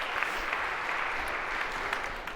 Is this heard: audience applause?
yes